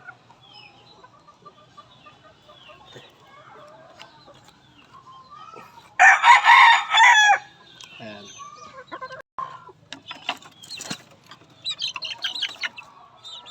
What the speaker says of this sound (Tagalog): Ayan po yung mga sisiw natin.